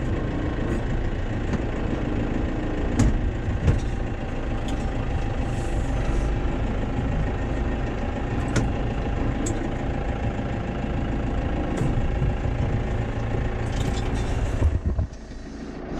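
A heavy farm tractor engine idles steadily and close by, a constant low rumble with faint clicks on top, cutting out near the end.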